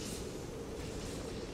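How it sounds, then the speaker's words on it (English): Steady mechanical rumble of conveyor machinery running in the horror video game Poppy Playtime, a continuous rattling drone with no breaks and nobody speaking. "That's not a train. That's a conveyor."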